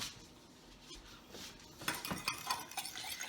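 A utensil scrapes and clinks against a dish while pineapple is stirred with butter and cinnamon, with light repeated clatter growing busier toward the end, close up, with no talk.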